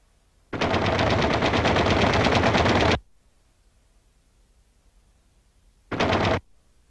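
Twin .50 caliber machine guns in the tail position of a B-25 Mitchell bomber fire a loud, rapid burst of about two and a half seconds, followed after a pause by a second short burst.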